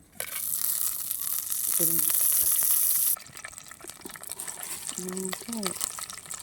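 Dried red chilies and curry leaves hit hot oil with a loud burst of sizzling that fades after a few seconds to a quieter crackle, while a voice talks over it.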